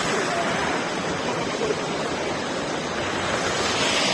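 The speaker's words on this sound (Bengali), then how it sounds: "দুদিকেই পাথর, মধ্যেখান দিয়ে নদী নেমে গেছে" A steady, loud rush of the Rishi Khola mountain river in East Sikkim tumbling over rocks between two hills, continuous and unbroken, with no voices heard.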